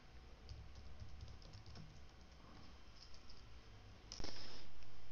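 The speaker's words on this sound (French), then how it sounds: "Il suffirait de taper duplicate ici." Quick bursts of keystrokes clatter on a computer keyboard, close and soft against a quiet room, ending with a louder click and hum.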